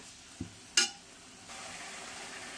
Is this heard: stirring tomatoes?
yes